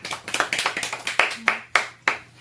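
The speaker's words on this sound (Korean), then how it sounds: "박수." A small class audience claps in a short, uneven run of about a dozen distinct hand claps, quick at first, then spacing out into a few isolated claps, close and clear with no talk.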